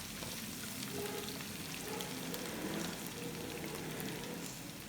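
A paste of garlic, green chili and ginger fries in oil for a dhaba-style urad dal, giving an even, soft crackling sizzle that runs on unbroken, with faint stirring and no talking.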